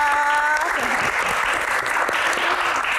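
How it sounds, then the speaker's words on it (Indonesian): A studio audience at a talk show on environmental action applauds to welcome a guest, the recycling centre founder, with steady dense clapping throughout and a voice briefly audible over it at the start. "tepuk tangan Mas Iqbal"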